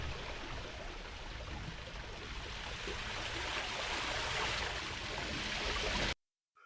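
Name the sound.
Sprodley Alley Brook waterfall at Fairy Glen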